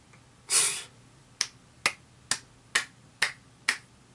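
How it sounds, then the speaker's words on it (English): A slow clap: single sharp hand claps spaced roughly half a second apart, about eight in a row, close and distinct in a quiet room. "A nice, good old slow clap for your efforts."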